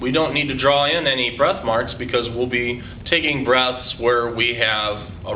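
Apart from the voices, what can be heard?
No everyday noises stand out.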